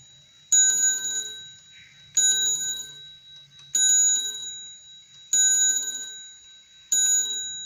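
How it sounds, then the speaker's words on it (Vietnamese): A German wall clock strikes the hour in five evenly spaced bright metallic chimes, each ringing out and decaying before the next, loud and close with no voices. "Chuông giờ chẵn thì nó điểm theo giờ"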